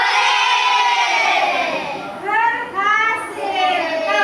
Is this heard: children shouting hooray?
yes